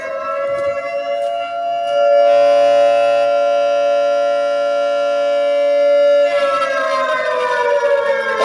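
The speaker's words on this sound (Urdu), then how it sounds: "ایک مرتبہ 1 منٹ کے لیے سائرن بجائے جائیں گے۔" A civil defense siren sounds at an Independence Day flag-hoisting ceremony at the Lala Musa municipal committee in Pakistan: a loud, steady wailing tone that swells, holds, then rises in pitch toward the end, with no voices.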